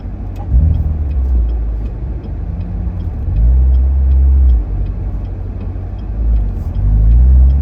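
A Chevrolet C7 Corvette Z51 cruising at speed on the sweeping Foothills Parkway, its engine a steady low drone that swells and eases with throttle, heard from inside the car with road rumble and no talk.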